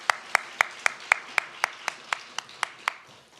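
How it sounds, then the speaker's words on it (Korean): A church congregation claps for its choir after a Wednesday evening service, giving twelve or so slow, evenly spaced claps in a steady unison rhythm, close and clear over a quiet room. "차렷 인사할 때 우리 축복의 박수 하도록 하겠습니다"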